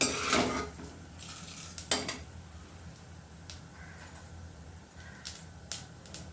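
Dried turkey berries frying in oil in a pot for vatha kuzhambu, with a soft background sizzle broken by sharp clinks and clatter of a utensil against the pot, close and fairly quiet, no talking.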